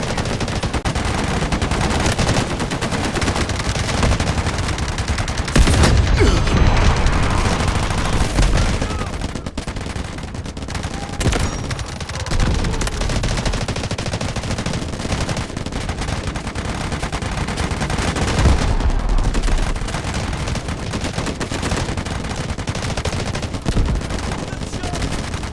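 Artillery barrage in the military shooter Delta Force Mobile during Warfare mode on the Uluru map, a sustained roar of gunfire and heavy impacts with booming bursts around six and nineteen seconds, loud and continuous throughout.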